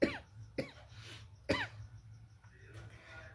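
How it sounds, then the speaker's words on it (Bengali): A woman gives several harsh, close coughs in quick bursts amid quiet breathing, with a faint steady tone in the background. "কথা বলতে বলতে একদম কাশি চলে আসছে"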